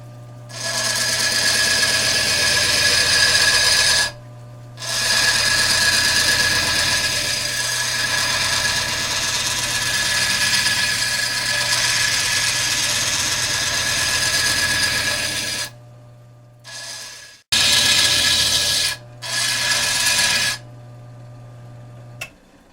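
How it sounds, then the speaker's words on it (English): A grinder working the corners off an agate marble blank, a loud steady whining buzz with a constant low hum, cut off in short pauses and restarted several times near the end. "The next step is I'm going to grind off all these little corners here."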